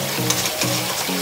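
Cream fries in a kadhai as ghee is made, a loud, steady close sizzle broken by the repeated scrape of a stirring spoon against the pan.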